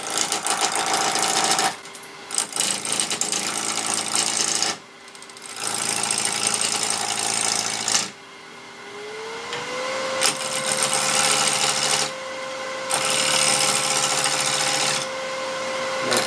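A woodturning lathe cuts a wood block round, loud sustained whirring and scraping in several long passes separated by brief quieter gaps as the motor keeps running.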